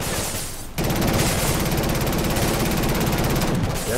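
Sustained automatic gunfire hammers at a shield in Killzone Shadow Fall, a dense unbroken roar of rapid shots starting abruptly after a short lull and running loud and close to the end.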